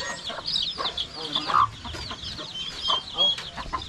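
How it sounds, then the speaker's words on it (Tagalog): Farmyard chickens clucking in short bursts at close range, with several overlapping calls, on a rural Philippine farm. "Oh, manok."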